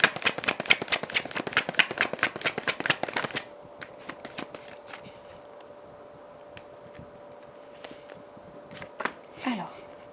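Tarot cards shuffled in a rapid run of crisp riffling snaps for about three seconds, then quiet with a steady hum and a few isolated card taps and a brief rustle near the end.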